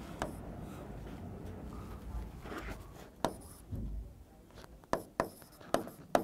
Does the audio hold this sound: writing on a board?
yes